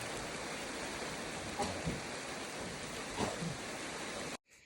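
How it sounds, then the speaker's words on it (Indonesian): Light drizzle falls outdoors in a steady soft patter over a faint hiss. A couple of slightly louder splashes or knocks come partway through, and it cuts off abruptly near the end. "Dan hujannya itu belum terlalu deras"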